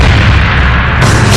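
A gunshot sound effect in an Indonesian TV reality show is heard as a loud, sustained booming blast with a sharp rise in brightness near the end, and no voices.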